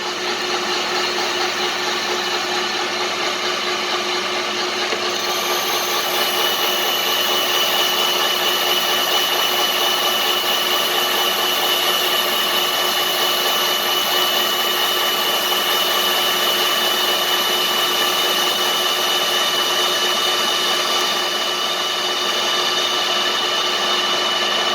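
Loud, steady machining drone from a lathe cutting a customer's part, a constant whine with no break and no voices.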